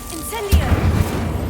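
A fire spell cast in Hogwarts Legacy erupts with a sudden low burst and crackling roar that rolls on steadily after a brief voiced moment, loud and close.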